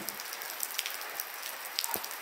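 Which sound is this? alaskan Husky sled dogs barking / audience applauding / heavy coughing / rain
rain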